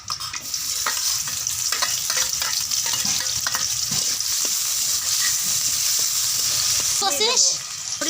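Ginger and onion sizzling and frying in hot oil for a bata fish curry, with steady crackle and occasional stirring scrapes, close and continuous.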